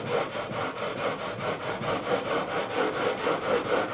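Guitar frets on a PRS SE Bernie Marsden are sanded with fine 400 grit sandpaper, giving a close, even rasping rub in a fast, regular back-and-forth rhythm over about four seconds, alone with no talk.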